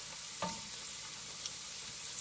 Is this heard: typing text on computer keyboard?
no